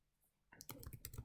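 Brief quick typing on a computer keyboard, a short run of close, crisp key clacks starting after a moment of near silence, quiet overall.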